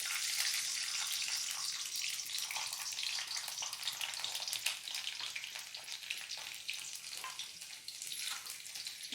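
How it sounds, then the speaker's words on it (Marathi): Garlic frying in about four tablespoons of hot oil for a Maharashtrian kardai bhaji, a steady close sizzle with a fine crackling hiss that holds for the whole stretch, no voices over it. "साधारण चार टेबलस्पून मी तेल घातलेलं आहे यामध्ये प्रथम लसूण घालूयात"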